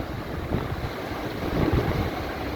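Strong typhoon wind roars across a backyard in gusts, blowing hard against the microphone as a loud, continuous rushing noise with low buffeting surges.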